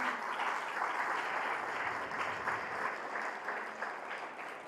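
A church congregation applauds during a sermon, steady dense clapping sustained throughout, heard at a distance and fairly quiet.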